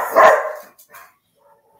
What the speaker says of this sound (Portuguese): As cachorras.